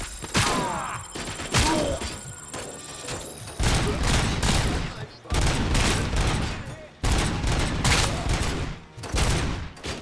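Gunfire in the RoboCop video game comes in loud, close bursts of rapid shots with heavy thuds between them, several volleys separated by brief pauses, with a voice talking now and then.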